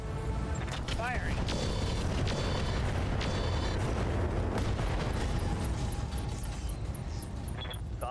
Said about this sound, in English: That was a lot of stuff that blew up.